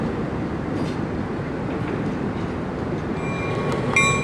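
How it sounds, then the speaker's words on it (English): A Pickering Lumber SW9 diesel switcher rolls along the Sierra Railroad back toward the mill after leaving a single boxcar at the Standard Depot, a steady low rumble of wheels and engine holding throughout, with a faint whistle-like tone near the end. "An SW9 returns to the mill after dropping a single boxcar off at the Standard Depot to be loaded with supplies"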